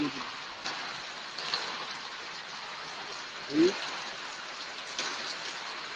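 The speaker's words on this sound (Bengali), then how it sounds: "বারান্দায় প্রত্যেক দিন বৃষ্টি প্রত্যেক দিন বৃষ্টি" Monsoon rain pours steadily beside a veranda in Tamil Nadu, a constant soft hiss of falling water heard from nearby, with one brief louder thump partway through and no voices.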